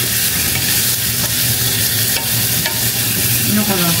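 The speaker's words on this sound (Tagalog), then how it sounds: "Prito lang muna saglit" Meatballs for spaghetti fry in a pan with a steady, close sizzle and some stirring scrapes throughout.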